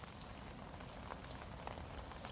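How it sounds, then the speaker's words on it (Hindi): Rain patters densely on a surface, a soft, even hiss of drops close by, faint and continuous. "बारिश फिर होने लगी।"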